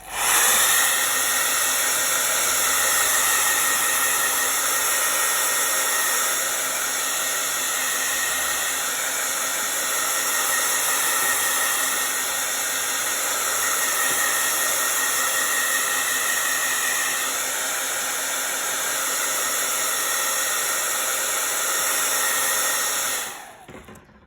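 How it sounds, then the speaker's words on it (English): Hair dryer blowing steadily on a painted craft gnome, a loud continuous airy roar that holds nearly unchanged for over twenty seconds before cutting off abruptly at the end. "I'm gonna blow it dry and then do one more coat."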